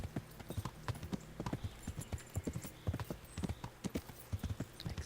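Horse hooves clip-clopping in the medieval video game Kingdom Come: Deliverance, a fairly quick, uneven run of close hoof strikes, with a brief whinny partway through.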